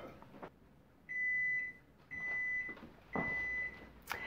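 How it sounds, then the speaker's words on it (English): Three sustained electronic beeps, each about half a second long, sounding at regular intervals against quiet background noise. "And there's my 4 minute timer."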